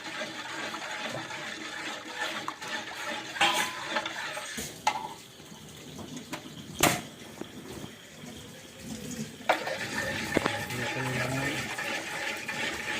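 Coconut milk for majablanca, a Filipino coconut pudding, is poured in and stirred in a pot, giving a continuous watery swishing and sloshing with occasional clinks. The sound is close and moderately loud.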